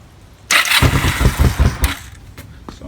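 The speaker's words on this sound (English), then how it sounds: "chuck on a little bit of choke just because it's not been started for a while." Kawasaki EN450 bobber motorcycle cranked with choke on after sitting unused, the engine catching abruptly and revving loud and rough for over a second before settling to a lumpy idle, close by.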